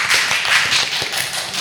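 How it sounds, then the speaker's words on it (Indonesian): A brief, close burst of applause from an audience at a school gathering, many hands clapping densely with no voices over it. "Tepuk tangan sekali lagi dong"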